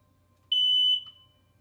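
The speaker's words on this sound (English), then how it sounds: "That was a smoke alarm for unreasonably going off" A smoke alarm sounds one loud, piercing electronic beep lasting about half a second in an otherwise quiet room.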